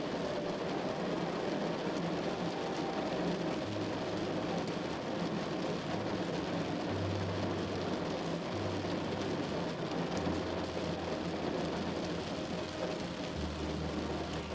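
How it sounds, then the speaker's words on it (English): Heavy pouring rain from Hurricane Beryl drums steadily and loudly on a surface, a dense continuous wash with a low rumble of what may be a vehicle underneath, no voices. "it's pouring rain"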